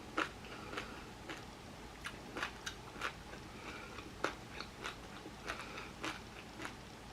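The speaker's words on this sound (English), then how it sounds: "Do you hear that crunch?" Close, crisp crunching as a vegan sushi burger with crispy rice is bitten and chewed, in irregular bursts over a quiet background, with no talking.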